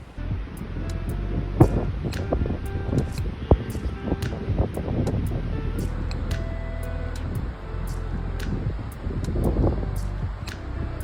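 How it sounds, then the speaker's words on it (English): Wind rushes and buffets steadily outdoors, a low continuous roar with scattered clicks and rustles, no talking. "the wind really has picked up"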